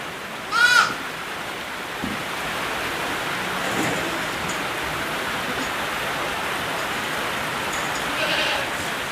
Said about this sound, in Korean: 수염소 새끼들이 가까이에서 먹이를 달라고 이렇게 바라봅니다.